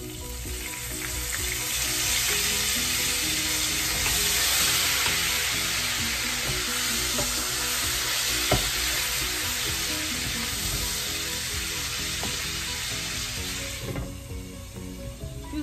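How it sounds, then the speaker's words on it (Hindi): Ginger garlic paste frying in a pan for muttar pulao, a steady loud sizzle with occasional stirring scrapes, continuous throughout with no talking. "थोड़ा सा ये कुक हो जाए जिंजर गार्लिक"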